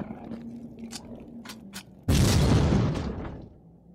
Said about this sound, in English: him rolling over this car blew it up